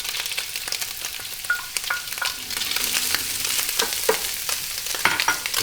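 Shallots sizzle and fry in a pan with sausage, a steady crackling hiss with sharp pops and stirring scrapes scattered throughout, close and moderately loud with no talking.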